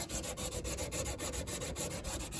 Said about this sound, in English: we're sanding it with some 100 grit sandpaper